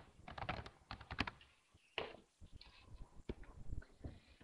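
Quick, close keystrokes clatter on a computer keyboard while a login and password are entered, an uneven run of soft plastic taps with brief pauses between bursts, quiet and without speech.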